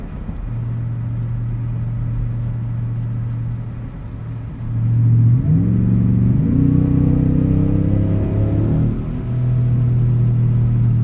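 A 2023 Ford F-150 Raptor R's exhaust drones low while driving, then rises through several stepped upshifts of its 10-speed gearbox, each gear climbing in pitch before settling, heard from inside the cab.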